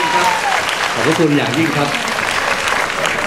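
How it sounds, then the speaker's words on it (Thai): Audience applause welcoming performers at a Thai music stage event, broad steady clapping throughout with a voice speaking over it near the middle. "คนดนตรีปรบมือต้อนรับทีไหมคะ"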